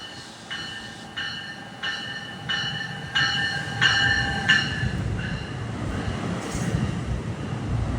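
A multi-level Trenton to New York local commuter train passes close by. A series of repeated tonal blasts rings out over a growing rail rumble that carries on loudly after them.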